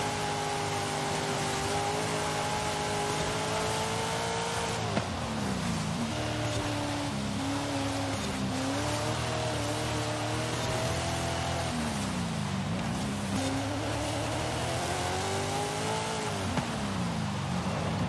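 An Audi race car driven hard in a racing game endurance race, its engine droning loudly and continuously, pitch climbing and dropping through gear changes and revving.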